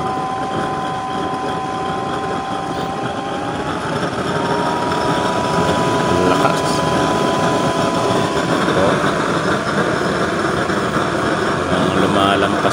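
A hand-cranked blower feeding a chamber stove with a topless-hole nozzle and pipes roars in a steady, loud, broadband rush that grows slightly stronger midway, with someone talking over it.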